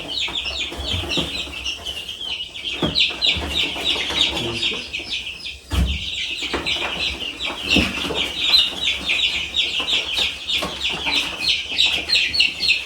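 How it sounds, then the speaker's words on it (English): Two chickens cluck almost continuously in a new DIY coop built from salvaged materials, giving close, busy chatter with a few louder thumps and no speech. "Let's see how these two chickies like their new home."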